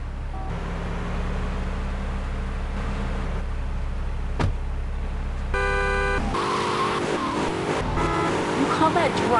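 Car driven in GTA Vice City, a steady engine drone running for about six seconds before a music-like passage takes over, with voices talking over the game audio.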